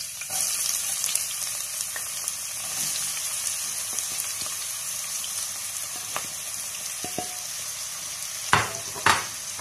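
Chopped onions frying in ghee and a little oil for an egg masala, a continuous crackling sizzle with occasional sharp pops and spoon scrapes near the end, and no one talking.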